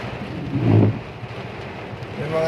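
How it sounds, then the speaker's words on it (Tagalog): Heavy rain in Pulilan pouring down around a vehicle in traffic, a continuous hiss with a brief louder low rumble early on, wind noise mixed in. "sobrang lakas ng ulan dito sa Pulilan"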